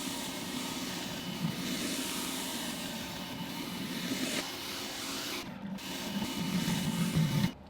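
An EGO 3200 battery-powered pressure washer fitted with a turbo nozzle sprays steadily at close range, a continuous hissing rush with a low motor drone that swells slightly toward the end, with no talking.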